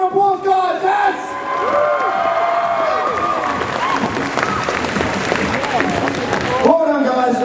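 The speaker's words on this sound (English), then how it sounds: "Give them a round of applause, guys." An audience at a Sunday cosplay competition claps and cheers for the competitors, a loud, sustained wash of crowd noise with whoops, while a voice carries through at the start and end.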